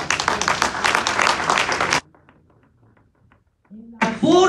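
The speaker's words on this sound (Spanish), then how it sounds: "Un aplauso al Señor por eso." A church congregation applauds loudly for about two seconds, then the clapping cuts off into near silence before a voice begins speaking.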